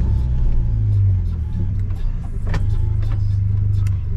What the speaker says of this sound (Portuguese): Vou armar o launch control aqui pra vocês